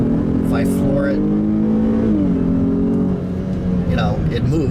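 A 2018 Buick Enclave Avenir engine pulls hard at full throttle, a steady loud drone rising and shifting gear around the midpoint, with a person talking over it.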